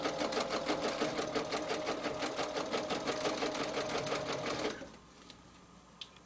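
A sewing machine stitches a heart design onto a pillow with a fast, steady needle clatter that runs loud and close for several seconds, then stops abruptly, leaving a quiet room with a faint click.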